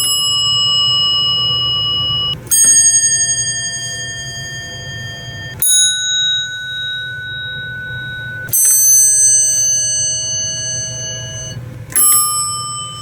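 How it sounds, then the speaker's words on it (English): Electric bells on a homemade elevator bell board ring in four separate bursts as buttons are pressed, each a bright sustained ring with brief pauses between, over a low steady hum. "you've got these buttons and you can push them and they ring bells."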